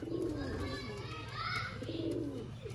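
Sialkoti pigeons coo softly in low, rolling calls within a pigeon loft setup, faint under a steady background hum, with children's voices and talk around them.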